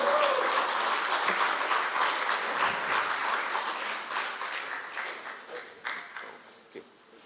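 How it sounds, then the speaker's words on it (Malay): Audience applause at a Barisan Nasional by-election campaign rally in Malaysia, a dense, steady crowd clapping that gradually thins and fades over several seconds into scattered claps. "Zaidi Aziz, calon Barisan Nasional N58 Slim, berikan tepukan gemuruh."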